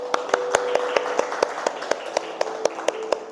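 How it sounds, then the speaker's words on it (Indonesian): A classroom gives a round of applause for a pupil, with a steady wash of clapping and sharp regular claps standing out through it, close and loud. "beri tepuk tangan untuk Arsilo"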